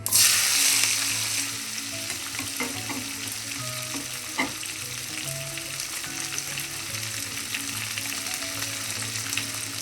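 Green beans fry in hot coconut oil with popped mustard seeds, giving a steady, close sizzle with occasional stirring scrapes and no talking.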